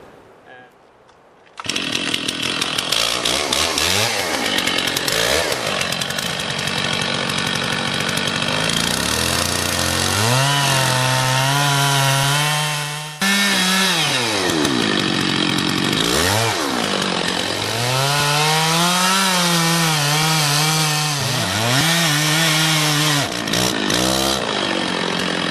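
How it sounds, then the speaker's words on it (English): A chainsaw cuts a V-notch into a big Douglas fir, idling briefly before revving loud and close, its pitch dipping and rising repeatedly as the chain bites into the trunk during felling. "today I'm going to drop this big Douglas fir tree, and the first stage of cutting the tree down is to do a V-cut."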